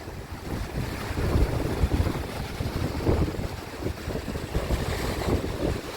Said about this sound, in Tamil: பாருங்கள் ப்ரோ எந்த அளவுக்கு வேகமாக தண்ணி போயிட்டு பாருங்க